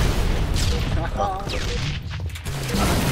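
Rapid pistol gunfire in the Halo Master Chief Collection shooter game, bursts of shots and booms layered in a dense, noisy battle mix with a voice talking underneath.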